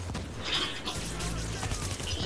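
Gunfire in Tom Clancy's The Division (Clear Sky DLC), dense bursts of shots and booms running continuously at a steady, fairly loud level, with voices talking faintly underneath.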